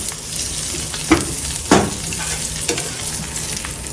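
Crab masala frying in butter in a pan, giving a loud, steady sizzle broken by a couple of sharp scraping strokes as it is stirred and turned close by, with no voices.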